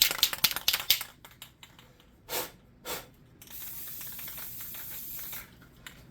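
A clear coat aerosol sprays onto tinfoil in a single steady hiss of about two seconds, preceded by a few scattered clicks and light taps, close and moderately quiet.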